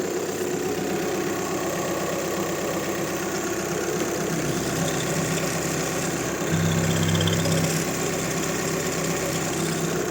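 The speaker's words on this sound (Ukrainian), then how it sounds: "Двигун працює ідеально, без нюансів." A 2014 VW Touran 2.0 TDI 140 hp diesel engine idles steadily up close with a constant low rumble and faint knocking, rising slightly in pitch partway through.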